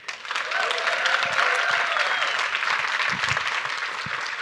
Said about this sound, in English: Let's get one more round of applause for Mandy.